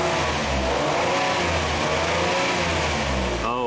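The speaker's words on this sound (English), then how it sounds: "Let me rev it up." A Lincoln MKT engine with low fuel pressure, running lean on both banks, is revved up from idle in repeated loud, close surges, each rise in pitch falling back before the next.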